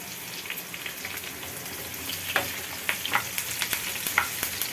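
Curry leaves crackle and sizzle in hot oil for a dal tempering, a steady frying hiss with sharp pops that grow sharper partway through, close and alone.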